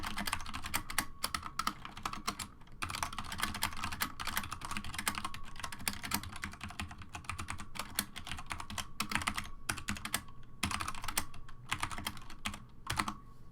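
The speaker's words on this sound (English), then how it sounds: "you'll be able to see me typing something on QWERTY," Continuous rapid clacking of a V60 mechanical keyboard being typed on in a QWERTY layout, dense and close, with a few brief pauses between bursts.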